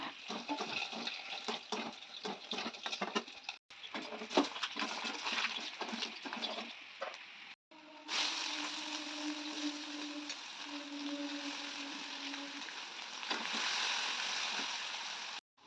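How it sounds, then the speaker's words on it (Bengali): Eggs fry in a pan for a Bengali egg curry, giving a steady, close sizzling hiss. The hiss briefly drops out twice, and a faint humming tone appears partway through. "আমি ডিমটা কারি করবো বলে ভাজতে দিয়েছি"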